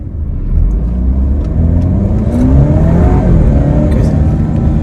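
An Alfa Romeo Giulia launches from a stop sign, its engine rising in a loud, close revving build that swells steadily as the car accelerates.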